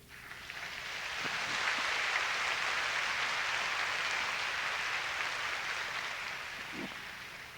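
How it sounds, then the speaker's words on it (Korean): A church congregation applauds to welcome a visiting revivalist preacher, a steady broadband wash of clapping that swells within the first second, holds evenly and eases slightly at the end, fairly distant and diffuse in a large hall. "박수로 환영하십니다."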